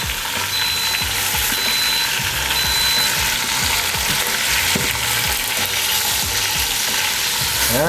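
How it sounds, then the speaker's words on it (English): Chicken browning in oil inside an Instant Pot, a loud, constant frying sizzle close up, with faint repeated scraping and tapping underneath throughout. "We'll brown both sides, about 3 minutes on each side, just to get it brown."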